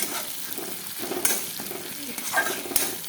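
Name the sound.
onions frying and being stirred in a pan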